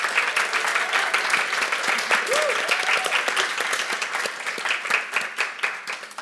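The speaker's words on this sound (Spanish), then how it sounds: "Un aplauso para Ale y Leo, por favor" An audience claps for two speakers at a book discussion, steady crisp applause from a modest crowd that gradually loosens, with a faint voice briefly under it.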